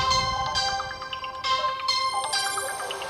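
A mobile phone rings nearby with a repeating chiming melody of bell-like notes, moderately loud over a low background rumble from an airport setting, with no talking.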